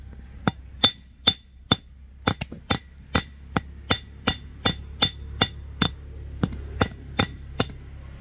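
A hammer strikes metal again and again to flatten a nail or rivet head set against a metal block. About twenty sharp, ringing clanks fall at a fairly regular pace, close up, with no talking.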